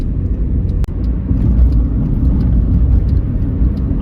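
Steady low road rumble and tyre hum from a car moving slowly at around 50 to 60 km/h along a fog-covered highway, heard from inside the vehicle, continuous and fairly loud with one brief click early on.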